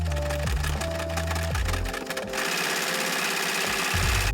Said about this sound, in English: I'm going to sew like 3 sides of them up